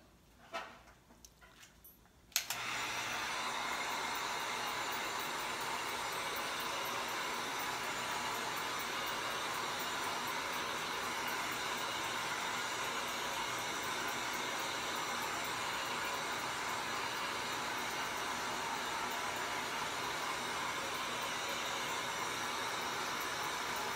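A hair dryer drying paint on a sketch switches on after a few soft handling noises and then blows with a steady, even whoosh for about twenty seconds.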